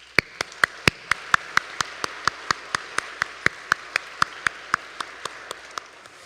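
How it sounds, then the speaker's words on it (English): Sharp, evenly spaced hand claps ring out one after another, about two dozen in steady rhythm, fairly close, at a high school Air Force JROTC awards ceremony. "A round of applause, please."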